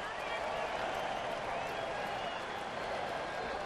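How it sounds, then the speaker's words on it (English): Tigers baseball crowd in a Detroit stadium during a 3-2 count against Milwaukee, a steady, broad roar of cheering and clapping that stays even and distant throughout, with no break. "the Tiger fans starting to make a little noise"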